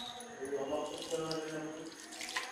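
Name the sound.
water poured onto crushed jaggery for syrup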